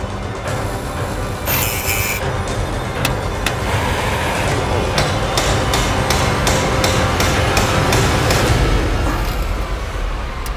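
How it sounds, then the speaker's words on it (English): A stuck upper pinch bolt is struck repeatedly with a hammer, giving sharp metallic blows that become a quick regular series, loud and close over a constant heavy background rumble. "The bolt bent when trying to hammer it out"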